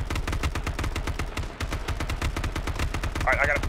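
Rapid gunfire from a firefight in the battle royale video game H1Z1, dense repeated shots throughout with a brief lull mid-way, loud and close, with faint game sounds near the end.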